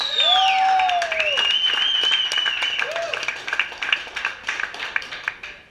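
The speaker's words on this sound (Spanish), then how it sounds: "¡Un aplauso para el Muser!" A crowd applauds and cheers a freestyle rapper at a battle semifinal, loud shouts and whistles at first, thinning into scattered distinct claps toward the end.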